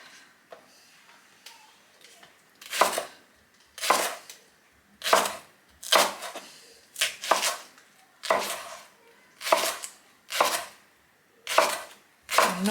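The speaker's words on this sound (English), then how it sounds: "not going to be too pernickety about chopping these up" A kitchen knife chops leeks on a board for a homemade rabbit and vegetable pie, about ten sharp, evenly spaced chops, close and fairly loud, with faint handling sounds before the strokes start and no talk.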